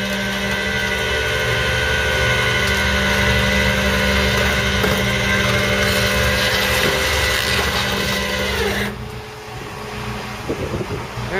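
A tow truck winch drawing a wrecked stolen car, bent around a tree, up onto the deck through a snatch block, a loud steady mechanical whine and engine drone that drops away near the end with a few clunks.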